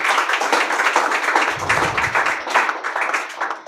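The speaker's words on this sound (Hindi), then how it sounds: "वो बच्ची के लिए ज़ोरदार तालियाँ।" Loud applause from an audience at a book launch event, dense clapping of many hands sustained the whole time, close and strong with a brief low rumble partway through.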